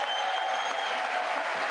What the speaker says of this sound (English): Kevin McCarthy stands up and applauds.